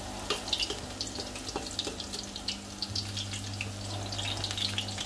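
Garlic browning in a pan while mung beans are being sautéed, a steady sizzle with crackling bursts and a low hum beneath, no talking.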